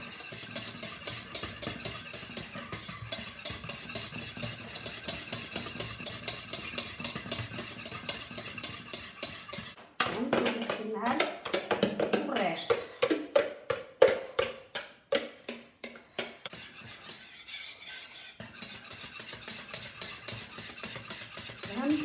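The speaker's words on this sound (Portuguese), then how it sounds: "vou adicionar as claras de ovo. Tem que se mexer com muita força." Egg whites being stirred hard into a sauce for a Maria biscuit pudding, with a spoon scraping and beating rhythmically against the pot, growing more vigorous and choppy partway through.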